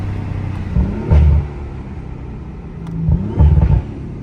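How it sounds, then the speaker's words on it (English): Audi RS5 with over 500 hp, driven through a forest, gives two surging bursts of engine and transmission noise as it accelerates, a deep rumble swelling and fading near the cabin with no talk. "the transmission makes noises"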